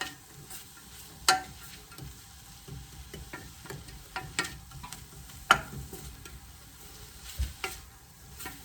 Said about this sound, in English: I just want to keep stirring.